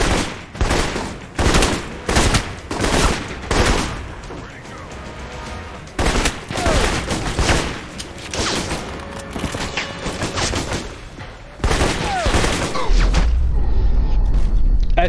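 Rapid bursts of gunfire from shooting at enemies in a video game, loud volleys and machine-gun rattles fired in clusters with short gaps, booming close shots and a denser sustained barrage near the end.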